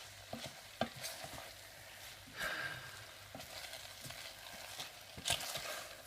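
Pasta simmering in a smoked salmon, mushroom and cream sauce, a soft steady sizzle with repeated scraping stirs of a utensil against the pan, close and fairly quiet.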